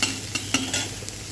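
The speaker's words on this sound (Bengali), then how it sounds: "তার জন্য একটা কড়াইয়ে তেল গরম করে দিলাম, তারপরে শুকনো মাছ দিয়ে দিলাম।" Dried fish frying in hot oil in a wok, a constant close sizzle broken by a few soft scrapes of stirring.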